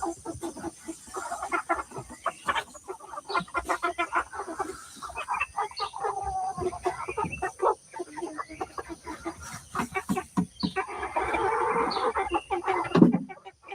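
Farm chickens cluck and squawk close by in a busy, irregular chorus, with a few louder calls rising near the end.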